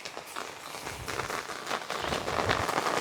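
Rain falls steadily over a garden plot, a dense hiss of drops pattering on surfaces, close and continuous, slowly growing a little heavier with no voices.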